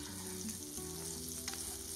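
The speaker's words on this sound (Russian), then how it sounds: "На сковороде разогреваем сливочное масло до шипения." Butter heats and sizzles in a frying pan, a steady close crackling fry with faint stirring scrapes, before walnuts are added to caramelize for a banana pudding topping.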